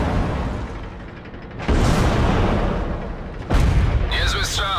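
Tank cannon shots in World of Tanks, fired from a T-50-2, come as two sudden, loud booms that roll out into a long rumble, followed by a brief high whine.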